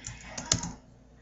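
A few soft keystrokes tap on a computer keyboard, brief and close with one sharper click, in a quiet room.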